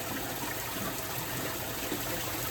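Water pours over a water blade into a koi pond filter, a constant, close rushing gush with no pauses or voices.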